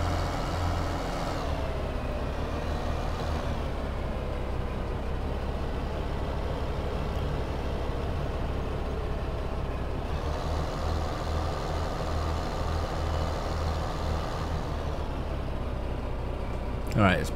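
A truck engine drones steadily in Farming Simulator 15, a continuous low rumble with slight swells in pitch as it moves, while someone talks over it.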